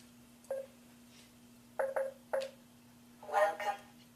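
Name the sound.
HEV phone charger sounds, from Half-Life video game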